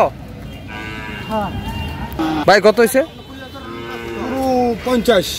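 Cattle, bulls and calves, at a cattle market in Kishoreganj, Bangladesh, lowing several times nearby, long drawn moos rising and falling, while a man asks prices and people talk around them.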